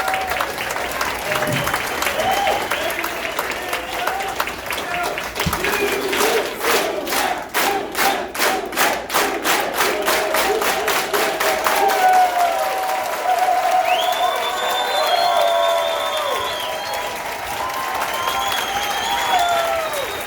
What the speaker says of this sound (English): I want to give them a big 226 union hand clap